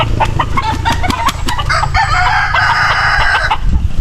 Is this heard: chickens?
yes